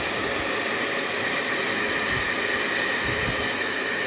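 A hair dryer blows steadily while drying a young girl's hair as she gets ready for school at home, a continuous close, loud airy whoosh with no breaks across the stretch.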